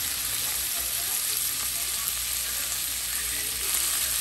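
Onion fries in a pan with a loud, continuous close sizzle, a dense hiss that stays steady from start to finish, with no speech over it.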